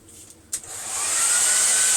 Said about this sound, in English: you can always use a blow dryer.